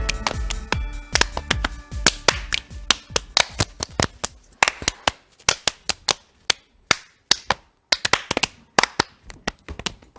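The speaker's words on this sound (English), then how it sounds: "you guys had a little clapping routine going" Two people perform a rhythmic hand-clapping routine, sharp close claps in patterned bursts with short pauses, fast at first and then more spaced, with no talking.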